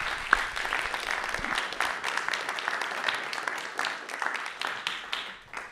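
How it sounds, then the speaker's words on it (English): Audience applause fills a full venue as a debate speaker walks up to the stage, a steady wash of many hands clapping with no talk over it, trailing off slightly at the end. "let's give him a round of applause as he goes up"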